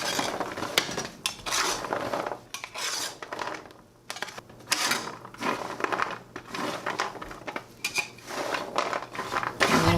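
Caramel pecans being stirred on a cookie sheet, close scraping and rattling of a utensil against the metal tray in irregular bursts, with no speech.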